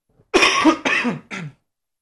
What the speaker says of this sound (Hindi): जो थोड़ी खांसी लेके आया हूँ वहां से